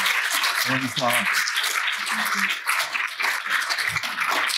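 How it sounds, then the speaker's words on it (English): Panel audience at a conference on Ukraine's domestic policy applauds in a steady, dense wash of clapping that lasts the whole moment, while a voice calls out over it. "Give a round of applause to our panelists"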